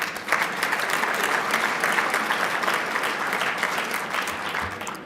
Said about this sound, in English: I think we can clap for that.